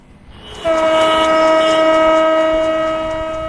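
A Parabat Express passenger train on the Dhaka–Sylhet route sounds its horn, a loud, sustained, steady blast that starts abruptly and holds to the end with no voices.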